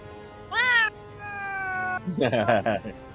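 A house cat meows loudly and close by, several distinct cries including a drawn-out one, ending in a harsher wavering yowl; indoors, no voices heard.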